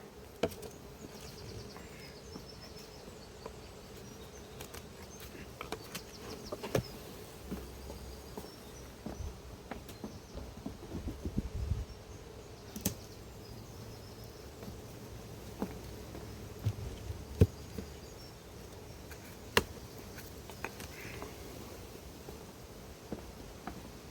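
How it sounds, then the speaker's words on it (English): Bees buzzing around a hive at an apiary, a continuous low drone with individual insects passing close by at intervals, moderately quiet and steady with no voices. "There are a fair amount of bees in the super next to the nest,"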